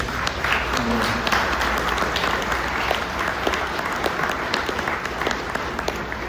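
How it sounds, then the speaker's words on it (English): A room full of attendees applauding presenters at a Corvette engineering team Q&A session, continuous dense clapping over a low background rumble throughout. "So I think we owe them a round of applause for having to manage."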